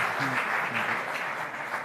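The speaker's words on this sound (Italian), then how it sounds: "Un grande applauso ad Ettore Marchi." Guests at a Umbrian football awards ceremony give steady applause, a moderate wash of clapping heard under a faint background voice and music.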